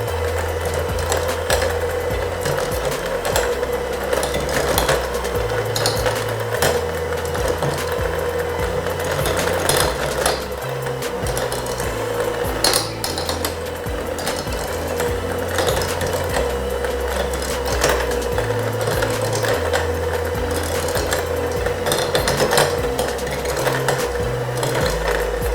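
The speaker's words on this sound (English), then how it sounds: "mixing butter and sugar at room temperature can sometimes take a few minutes to get that light and fluffy consistency. So do it on a medium speed" A stand mixer creams room-temperature butter and sugar at medium speed for maple sugar cookies, giving a steady, close motor whir with a constant rhythmic churning and faint clatter from the bowl, unbroken and with no talk.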